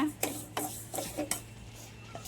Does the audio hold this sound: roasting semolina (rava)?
yes